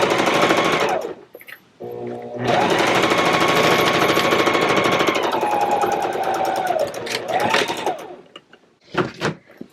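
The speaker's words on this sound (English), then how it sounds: "we're just going to sew at 1/8 inch" Sewing machine running fast and loud while stitching the lining of a Pokemon-themed book bag, a dense continuous whir with a brief stop and restart, then a few clacks as it halts.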